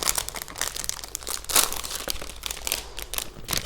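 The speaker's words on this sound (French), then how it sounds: "ça se présente toujours dans sa petite pochette. Qu'on va venir ouvrir." A plastic pouch holding a diamond painting kit is torn and handled up close, giving loud, continuous crinkling and crumpling with sharp tearing bursts throughout.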